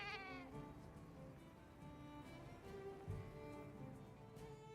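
A Palico cat companion in a video game lets out a faint, drawn-out meow at the start, followed by a quiet, busy game background.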